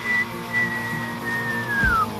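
Someone whistles at a toy that reacts to sound, a single clear held note that pauses, returns and slides downward at the end, with low background noise beneath it.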